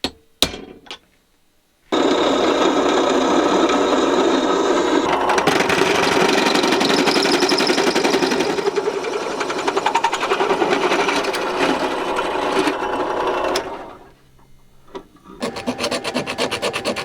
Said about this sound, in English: I'm gonna go ahead and just drill that out right away.